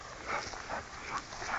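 A dog whimpering and whining softly, a few faint, high, wavering cries over a steady background hiss.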